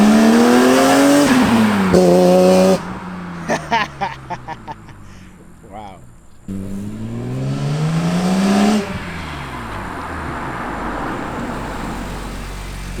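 A BMW E46 M3 fitted with catless headers revs loudly, rising and falling in pitch, then crackles and pops briefly before climbing again and settling into a steady drone, close by and alone.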